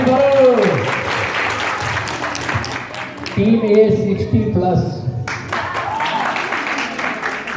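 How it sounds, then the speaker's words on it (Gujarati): Audience clapping during a quiz show round, mixed with a host announcing team scores over a loudspeaker; applause runs steadily through the clip beneath the talking. "તાળી વગાડો તાળી પાડો"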